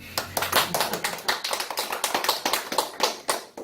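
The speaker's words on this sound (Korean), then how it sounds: "이때 박수를 한번 쳐야 돼요." An audience breaks into sustained applause, many hands clapping rapidly and fairly loudly throughout rather than a single clap.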